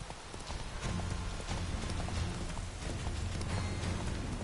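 Roach, a horse in the Witcher III video game, gallops with a steady rapid clip-clop of hooves, loud and continuous under game ambience throughout.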